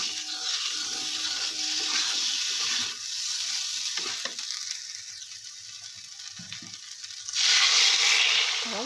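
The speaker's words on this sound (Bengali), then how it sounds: "পরিমাণ মতো জল দিয়ে দিচ্ছি" Water goes into a hot pan of rohu fish and taro curry, with a continuous sizzling hiss, brief scraping sounds and a louder burst of spitting near the end.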